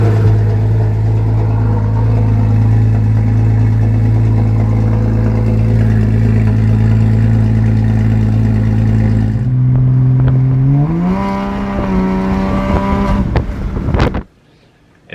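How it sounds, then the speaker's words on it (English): A car fitted with a race exhaust, running loud and raspy at a steady idle, then the revs climb and hold before the engine cuts off abruptly, leaving near silence. "And I have a few clips of the race exhaust."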